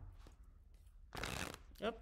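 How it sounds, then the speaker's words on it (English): A quick, soft riffle of playing cards being shuffled, lasting about half a second, with a voice briefly heard just after. "Such a soft little shuffle."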